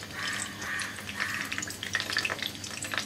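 Onion paste for egg korma sizzles quietly in a pan, a soft, crackling hiss with scattered pops that rises and falls over a few seconds.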